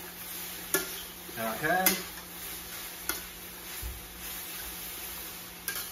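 Chicken, broccoli and scallion being stir-fried in a pan, with soft scraping stirs and faint sizzling, a few sharp utensil clicks against the pan, and a brief spoken word partway through.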